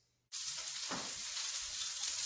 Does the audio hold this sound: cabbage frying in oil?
yes